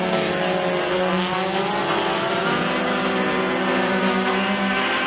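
Race cars in a heat at McKean County Raceway drive into the first turn of a close battle for the lead, a dense loud engine drone that holds steady throughout.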